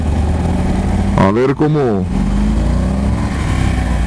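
A Yamaha Super Tenere motorcycle with a full fuel tank pulls away and accelerates, its engine note rising through a loud revving sweep before dropping back, with someone speaking briefly over it.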